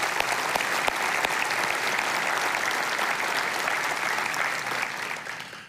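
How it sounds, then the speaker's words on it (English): A large audience at Mesa's State of the City 2025 event claps loudly and continuously, a thick wash of hands that holds steady before tapering off at the very end. "So let's give them a round of applause too."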